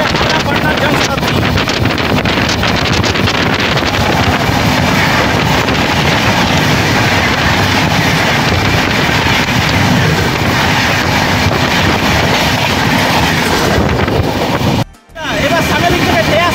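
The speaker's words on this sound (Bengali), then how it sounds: "চলো, গাড়ি আসছে, দেখো। হাওড়া পাটনা জনশতাব্দী।" The Howrah Patna Jan Shatabdi Express rushes past in a train crossing on Indian Railways, producing a loud, continuous roar and rattle with heavy wind buffeting that cuts off abruptly near the end.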